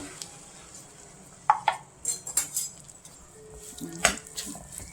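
A spoon stirs a sesame and jaggery mixture with ghee in a pan, making soft sizzling and a few metallic scrapes and clinks against the pan in short irregular bursts.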